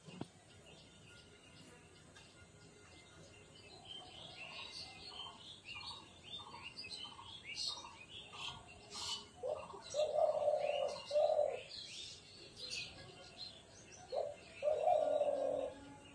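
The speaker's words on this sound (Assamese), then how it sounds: "কুপ্তি চৰে, কুপ্তি কপৌ বুলি কয়, আমি কুপ্তি বুলিয়ে কওঁ" A kupti dove coos near a house in the morning: soft, rhythmic phrases that build in loudness and repeat after a pause, with faint chirps and outdoor ambience underneath.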